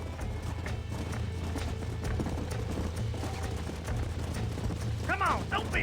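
Horses' hooves clip-clop steadily in Red Dead Redemption, a video game, with galloping, rattling tack and a whinny near the end, under a voice talking over the action.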